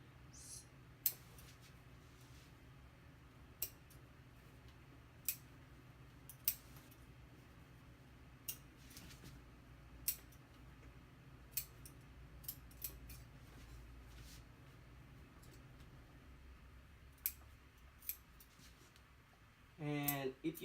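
Scissors cut around a T-shirt being upcycled into a top, giving a string of sharp, separate snips spaced a second or two apart over a low room hum, with a brief rustle of fabric handling at the end.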